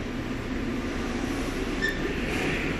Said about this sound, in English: Jarvis Products Corporation hydraulic motor dyno tester.